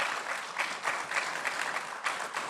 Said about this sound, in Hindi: बहुत अच्छी बात है कि बम्बई में लोग ताली बजाते हैं